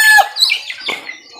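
Hens in a backyard coop squawk and cluck in a quick, close cluster of calls.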